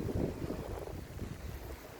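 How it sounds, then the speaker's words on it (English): Strong wind buffets the microphone outdoors in heavy rain while a kite is flown in high winds, a continuous rough roaring gust with no clear voices. "It's extremely rainy, but it's also quite windy."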